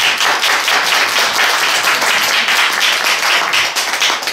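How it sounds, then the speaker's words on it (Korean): Loud, close audience applause in a small theater at a traditional Korean music recital, sustained rapid clapping with individual sharp hand claps standing out, filling the whole stretch at steady strength. "박수 부탁합니다."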